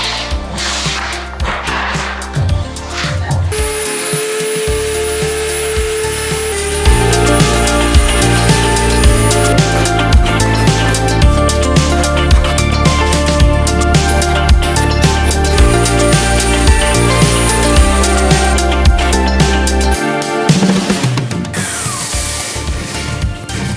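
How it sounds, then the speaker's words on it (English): An edge sander grinds along the edges of 71-year-old wood floors, a loud continuous rasping drone with shifting pitch and intensity, running for most of the stretch with brief pauses at start and end. "So this edge sander actually worked."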